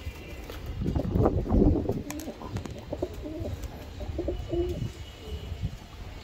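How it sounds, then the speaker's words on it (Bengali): Racing pigeons coo repeatedly nearby, soft throaty rolling calls in a steady rhythm, with a few faint chirps. "দেখেন কবুতর দুটা"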